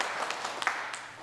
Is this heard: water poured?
no